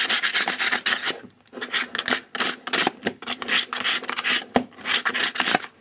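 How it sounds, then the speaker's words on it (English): Sandpaper rasping against the sides of a plastic 3x3 puzzle cube in quick back-and-forth strokes, close and loud, with brief pauses between bursts and no talk. "And really, you just sand down the sides."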